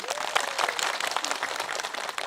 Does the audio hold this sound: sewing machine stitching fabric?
no